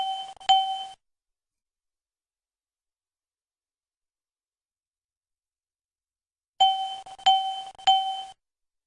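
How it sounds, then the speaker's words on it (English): Aircraft master warning system triple chime sounding during a cockpit panel test, a bright electronic chime heard once at the start and then repeated in a quick set after a long silence. "The master warning system audio triple chime should sound every 5 seconds."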